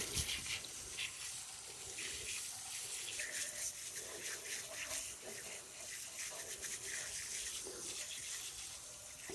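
A hose nozzle on its shower setting sprays water steadily while an acid-cleaned Mopar intake manifold is rinsed. The hiss is constant and broadband at moderate level, with no talking.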